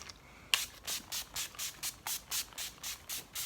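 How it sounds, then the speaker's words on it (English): A matte makeup fixing spray hisses in about a dozen short, evenly spaced bursts, close and soft, each a quick misty puff. "I'm just gonna use my trusty Collection Primed and Ready Matte Makeup Fixing Spray"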